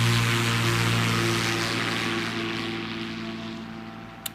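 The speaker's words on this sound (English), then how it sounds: "Here we go, flex wing. He's going to give it full power." A flex-wing microlight aircraft at Over Farm roars at full power on takeoff, a loud steady droning propeller and engine with rushing wind noise that slowly fades as it pulls away.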